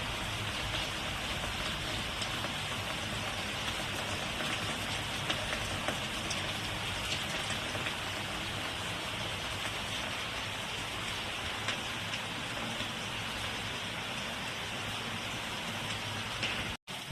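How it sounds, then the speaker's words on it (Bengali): Steady rain pours down during an evening shower, an even, dense hiss of drops hitting surfaces that continues without a break for the whole stretch and then cuts off abruptly at the very end. "অনেকই বৃষ্টি হচ্ছে, বৃষ্টিতে বেশ ভালোই লাগছে বৃষ্টিটা"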